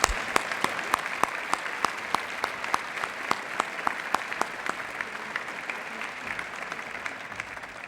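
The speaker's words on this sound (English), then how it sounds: "Please join me in giving them another round of applause." Audience applause at a college's State of the College address: sustained, fairly distant clapping from a crowd, with individual claps standing out in a dense, even patter that continues throughout.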